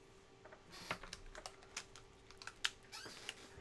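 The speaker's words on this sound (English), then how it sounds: "Did you just smash your keyboard?" Rapid, irregular clattering of a computer keyboard being hit hard during Minecraft play, sharp uneven clicks and thumps bunched together close to the microphone, with a low hum beneath.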